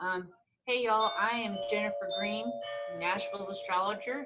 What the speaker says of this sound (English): This is a live broadcast, so that is the doorbell.